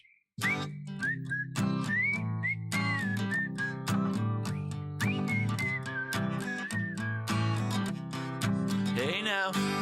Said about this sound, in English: Whistle, go.